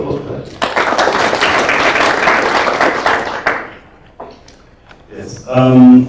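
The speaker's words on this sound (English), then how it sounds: "A round of applause, please." Audience applause at a conference on data protection in Africa, a few seconds of close, steady clapping that fades out, followed by a voice speaking.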